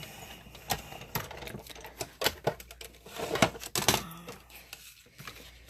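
A Big Shot die-cutting machine rolls card stock through an embossing folder, giving an irregular series of close clicks, ticks and small mechanical clatters over several seconds, with no voices.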